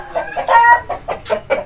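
Aseel roosters shut inside a room cluck in short, loud, repeated bursts, several calls following one another in close succession, with no one speaking.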